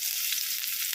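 Ground chicken meat frying in a little oil in a frying pan, giving a steady, close hiss of sizzling with no talking.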